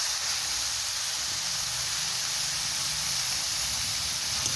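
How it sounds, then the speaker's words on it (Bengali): Chicken pieces sizzle in a pan while being fried with coriander powder for a chicken tarkari, a dense, even hiss that stays loud and unbroken from start to finish. "মাংসটা বেশ ভাজা ভাজা ভাজা ভাজা করা হচ্ছে।"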